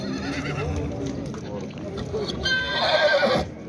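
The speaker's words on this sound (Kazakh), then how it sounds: "Охо, мына аттар қараңыздар." Horses neigh and whinny at a busy horse market in Nookat, with hooves clip-clopping and people talking throughout; a loud, close whinny rises near the end over the crowd noise.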